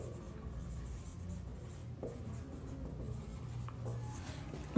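Pen scratching across paper while working a geometry solution, a soft continuous scribble with brief pauses and a few light taps, close and fairly quiet against a low room hum.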